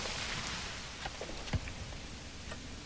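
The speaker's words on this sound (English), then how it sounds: "it's like really raining" Heavy rain hisses steadily in the video game Manor Lords, a dense wash of falling water with scattered faint ticks and one soft low thump, no voices.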